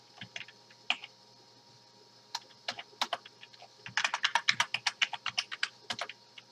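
Fingers type on a computer keyboard at close range: scattered sharp key clicks at first, then a quick, steady burst of keystrokes with no talking.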